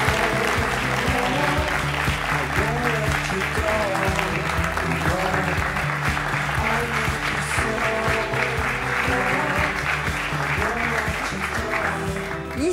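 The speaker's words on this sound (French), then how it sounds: "Merci d'applaudir Grégory." A French television talk-show studio audience applauds steadily and loudly for a dozen seconds, a dense continuous wash of clapping with music or voices faintly mixed underneath.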